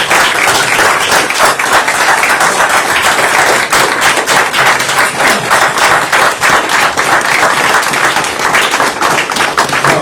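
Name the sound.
applause at a council meeting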